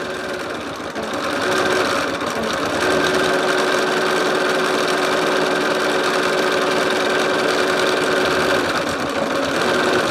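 An embroidery sewing machine stitches a crosshatch pattern on a lumbar pillow, running with a continuous rapid mechanical whir and buzz that starts after a brief quiet moment and holds steady and loud.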